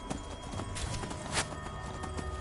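Rapid hoofbeats of a horse galloping in Skyrim, steady and continuous, set against a dense, noisy game background with no voices.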